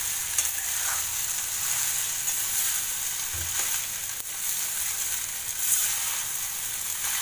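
Sabudana khichdi with potato, peanuts and salt is stirred in a pan over medium heat, giving a steady bright sizzle with soft scraping strokes and a brief clunk partway through; no talking.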